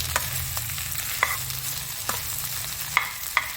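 Onions frying in a pan for samosa filling, stirred with a spoon: a steady low sizzle runs throughout, with a few sharp scraping clicks of the utensil against the pan, close and fairly quiet.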